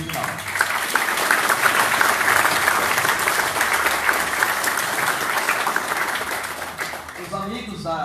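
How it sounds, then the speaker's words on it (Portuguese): An audience applauds a professor at a formal ceremony of a city literary academy, with loud, sustained clapping from a large indoor crowd that fades near the end as a voice begins speaking. "Eu peço uma salva de palmas para o professor Reginaldo."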